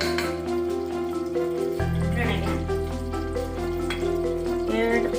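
Ghee heats in a pan while pulao ingredients are prepared, a soft continuous sizzle sitting under background music throughout.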